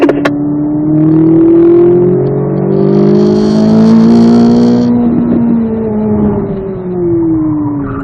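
A Corvette Z06 accelerates out of a corner on a racetrack, its engine note climbing and falling through gear changes, loud and close from inside the car.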